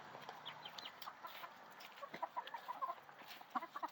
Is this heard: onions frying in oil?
no